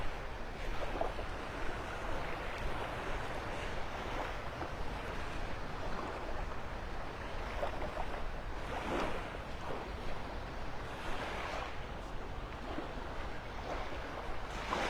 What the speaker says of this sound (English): You can just see the waves rippling over the sandbar out there.